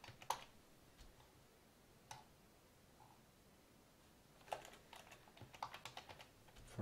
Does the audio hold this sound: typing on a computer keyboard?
yes